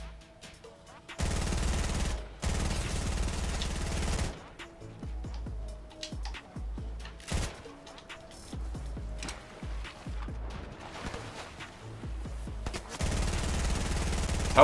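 Submachine gun fire in Fortnite, with loud sustained automatic bursts at the start and end and a stretch of rapid, choppy single shots and short volleys in between.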